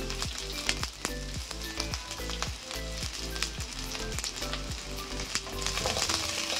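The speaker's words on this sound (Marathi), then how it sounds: "चांगलं त्याला गुलाबी होईपर्यंत असं भाजून घ्यायचं" Spring onion and capsicum fry in oil in a pan, giving a constant crackling sizzle punctuated by rhythmic scraping stirs, close and fairly loud with no talking.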